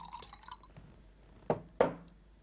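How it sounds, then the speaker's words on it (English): Water added to Laphroaig whisky in a glass, two quick soft splashing drips following faint trickling, quiet and close. "We cut it by adding a little bit of water."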